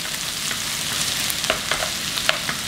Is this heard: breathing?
no